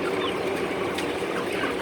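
Chickens cluck in a dense, enclosed poultry house in Korea, a steady layered murmur of many birds with a constant hum of the building beneath, no voices.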